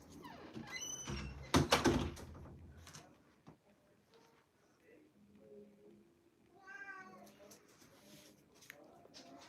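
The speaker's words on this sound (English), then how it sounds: "Oh look, there's a cat." A cat meows several times, with a cluster of loud cries early on, a door-like thunk, and further softer meows later, all fairly close in a quiet room with some faint voices.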